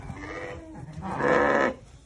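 Merino Landschaf sheep in a barn give a drawn-out bleat that swells and then stops, with a fainter call just before it, heard close against a low murmur of farm background noise.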